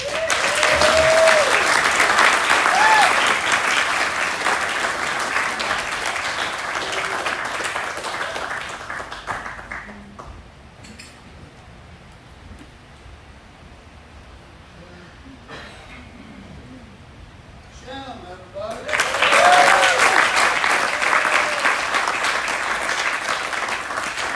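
A live slack key guitar show crowd applauds loudly as the featured artist arrives, with a voice talking over the clapping; the applause fades to quieter chatter midway, then swells again near the end.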